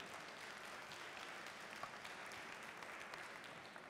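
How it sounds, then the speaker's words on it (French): An audience at a cooking event applauds a savoury dish, a steady wash of many hands clapping that stays faint and distant throughout, with no voices above it. "Applaudissements pour ce plat-là"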